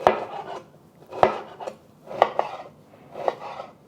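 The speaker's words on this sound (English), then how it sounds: "I'm just going to cut this down into smaller sections so that I can slice it along the grain" A knife slicing through beef flank steak on a cutting board, four distinct cutting strokes with scraping and light knocks, each followed by brief rubbing, spaced about a second apart, close and moderately loud.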